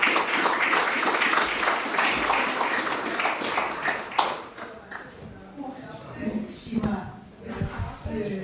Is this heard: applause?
yes